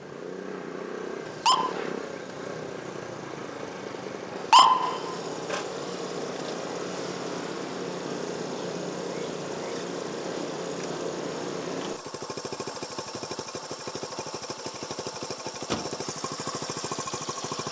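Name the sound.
motorcycle engine running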